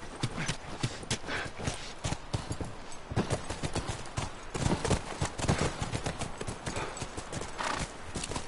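Horse hooves clip-clopping steadily in The Last of Us Remastered, a dense continuous rhythm of hoofbeats close by with an occasional whinny.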